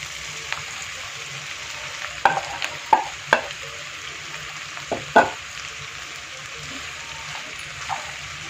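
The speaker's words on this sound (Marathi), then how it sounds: "शाबू 2 मिनिटं असं आपण फक्त तेलामध्ये परतून घ्यायचं" Sago pearls sauté in oil in a pan with a soft, constant sizzle, broken by several sharp clinks and scrapes of a spoon stirring, close by and faint overall.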